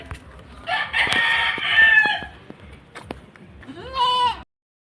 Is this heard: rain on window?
no